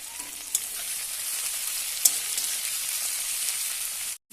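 Ginger and garlic sizzle steadily in hot oil in a pan for Bengali jackfruit and katla fish curry, a continuous hiss broken by a couple of sharp clinks of a spatula, ending abruptly.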